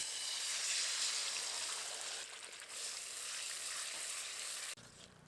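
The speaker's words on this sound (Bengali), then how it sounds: "টমেটো আর অন্যান্য উপকরণগুলো বেটে রেখেছিলাম এটা তেলের মধ্যে দিয়ে দেব" Ground tomato sauce paste hitting hot white oil in a pan, producing a steady broadband sizzle that fades slightly midway and drops off sharply near the end, with no talk.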